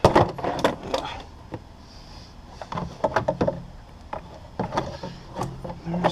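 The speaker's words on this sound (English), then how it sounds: "Now you should be able to remove the airbox lid," Airbox lid and air filter being removed from a 2009 GMC Sierra 2500HD truck, with a series of close plastic clicks, knocks and rattles in irregular bursts.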